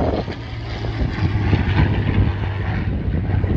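Curtiss P-40 Tomahawk propeller fighter flying at an airshow at Temora Aviation Museum, a steady loud engine drone with a low propeller hum throughout, no talking.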